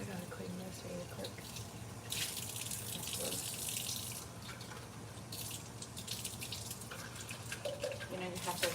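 Water runs steadily from a kitchen tap into a sink for rinsing, coming in loud bursts that stop and start, with a person talking over the flow.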